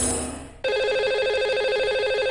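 A telephone ring tone sounds while a caller is being dialed on a live Indian TV astrology phone-in show. After a brief lead-in, a steady, repeating electronic ring plays clearly, with no voices over it.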